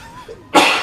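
A single sharp, explosive sneeze bursts out after a moment of quiet, loud and close, following a faint brief vocal sound.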